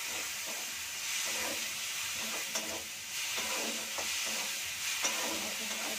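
Tomato paste frying with spices in a hot pan, a steady close sizzle and hiss with intermittent stirring scrapes throughout.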